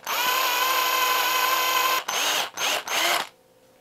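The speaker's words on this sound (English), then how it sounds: "I'm drilling the hole as far forward as I dare to drill it" A power drill whines steadily for two seconds while drilling a hole in a small fishing lure, then runs in three short bursts before stopping, close and loud.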